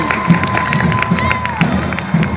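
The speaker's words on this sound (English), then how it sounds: "It's a big crowd." Crowd cheering along a homecoming parade route, a broad steady roar of many voices with scattered shouts and whoops rising above it, close and continuous throughout.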